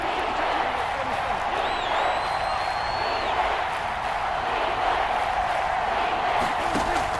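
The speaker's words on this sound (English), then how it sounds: "the crowd getting into it as we come up on a big 3rd down" A stadium crowd in the Madden NFL 22 football video game roars steadily and evenly throughout, a dense wash of cheering with a faint whistle-like tone rising briefly partway through.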